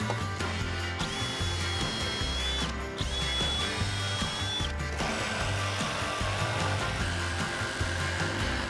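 A power tool whines continuously while cutting holes for electrical boxes in OSB sheathing, its pitch shifting slightly as it works through the material, loud and close with no talking.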